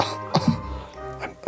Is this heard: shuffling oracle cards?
no